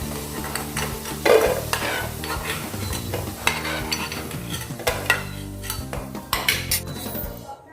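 Taro root (arbi) pieces frying in hot oil in a pan, loud and close, with a steady sizzle under repeated scraping and clinking of a metal spoon stirring.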